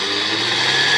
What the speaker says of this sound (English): So I'm going to pop my blender onto 3 and we're going to get started.